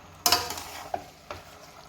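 Mutton pasta being stirred in a pan: a few scraping, sizzling strokes, one sharp at the start and two softer ones later, close by, with no talking.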